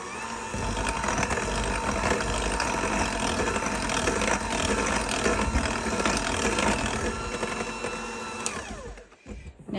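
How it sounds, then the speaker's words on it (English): An electric mixer beats carrot cake batter with sugar, a loud, continuous whirring and grinding close by for most of the clip before it winds down near the end, with no talking. "Let's beat that a little bit."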